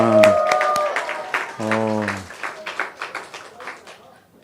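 Congregation applauding during a Sunday afternoon church service, a brief burst of clapping mixed with voices and a short sung or called-out tone at the start, the claps growing sparser toward the end.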